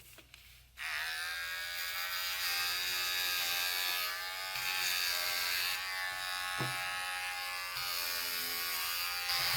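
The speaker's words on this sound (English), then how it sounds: "I'll trim all the fur off. And you can use scissors if you want. I find a shaver works a lot better." Electric shaver buzzing as it trims the fur off a sheepskin, a steady close-up hum that switches on abruptly and continues with slight changes in load as the blades move across the fleece.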